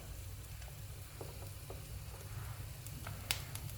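Chopped capsicum fries in a pan for an egg paratha breakfast, giving a steady close sizzle with a few soft clicks and taps from stirring and no voices.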